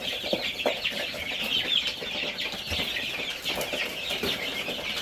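Chickens clucking nearby in a farm setting, busy overlapping clucks and short calls in an uneven rhythm, fairly loud and continuous with scattered clicks and rustling.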